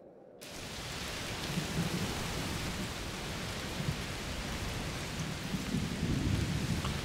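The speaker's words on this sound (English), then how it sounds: "It's raining a lot." Heavy rain pours steadily in A Plague Tale: Requiem, a dense, continuous hiss with low rumbling thunder building underneath, loud and enveloping with no voices.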